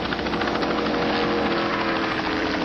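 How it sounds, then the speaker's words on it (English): A steady, loud medical helicopter rotor drone fills the whole stretch without a break, close and unchanging. "The medical helicopter was stationed only seconds away."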